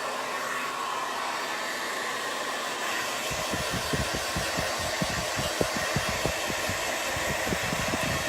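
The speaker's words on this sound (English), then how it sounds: "I am going to put this on cool. Give me a second while I blow dry." A hair dryer on its cool setting blows with a steady, close airy whoosh, joined partway through by a run of quick rhythmic thumps and rustles as it works through hair.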